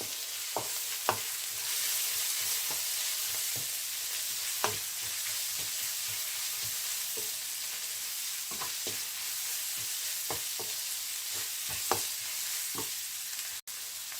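Bread and vegetable kottu is stir-fried with biryani masala in a pan, a soft continuous sizzle broken by regular sharp clacks of a spatula striking the pan, with no talking.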